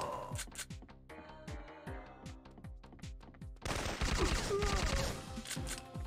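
Rapid gunfire from the player's weapon in the Syphon Filter video game, a fast string of sharp repeated shots that grows into a denser, louder burst of automatic fire toward the end, with game music underneath.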